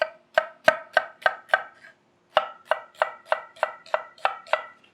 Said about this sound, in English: we're going to cut our onion up. So we're just going to do a nice julienne